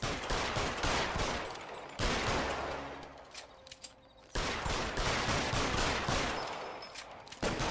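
Sustained gunfire in the 1940s crime game LA Noire, dense volleys of rapid shots in two long bursts separated by a brief lull, loud and close.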